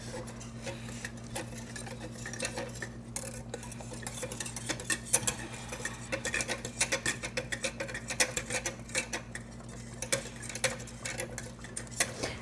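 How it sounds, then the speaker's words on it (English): A spoon stirs a flour-thickened sauce in a pot for lasagna, with close, quick clinks and scrapes against the metal repeating irregularly over a low, steady stovetop hum. "So how about you give this a little stir?"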